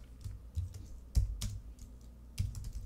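Computer keyboard keys tapped while code is typed for a cryptography library, a few uneven clicks and clacks close by with short pauses between bursts, no voices.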